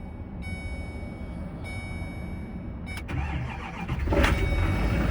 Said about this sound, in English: I bet this thing fires right up.